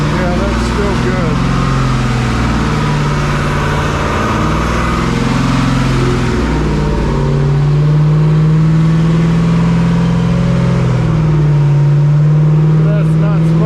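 A freshly rebuilt engine in an AMC Hornet runs hard during break-in, loud and close, its revs rising and falling steadily while people talk over it.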